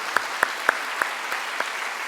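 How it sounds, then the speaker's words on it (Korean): A congregation in a university church chapel at Korea Baptist Theological University applauds, giving a sustained, even roar of clapping with a few sharper individual claps standing out near the start. "하나님께 영광의 박수 올려드리겠습니다"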